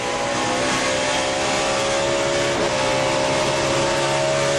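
An ARCA race car running a borrowed backup engine roars steadily at Gateway International Raceway during a 2005 race, a loud, sustained engine drone with a constant pitch and a slight wavering swell partway through.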